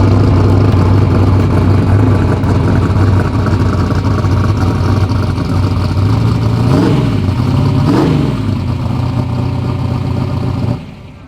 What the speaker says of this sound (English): See that street car pull up right there?